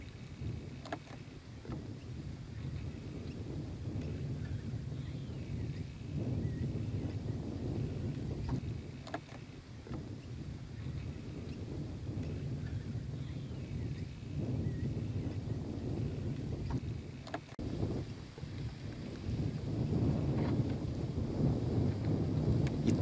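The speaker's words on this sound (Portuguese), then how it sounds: "Dá um vento aqui." Wind gusting across an outdoor rural farm setting in Minas Gerais, a steady low rumble of buffeting against the microphone that swells and fades in waves over a long stretch, with occasional faint knocks and no speech.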